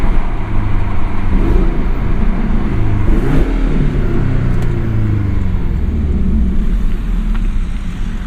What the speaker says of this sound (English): Right away you notice that the exhaust has a lot more bass to it.